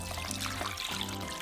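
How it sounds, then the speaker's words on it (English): Water pours into a pot over chicken, garlic, bay leaves and seasonings, a steady faint trickle and splash lasting the whole moment. "Now we're just going to add enough water to cover our chicken."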